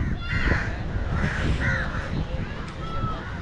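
Crows calling from the roadside by a tilapia pond on a Sri Lankan seaside trip, several raspy caws repeating over a steady outdoor background with faint voices nearby.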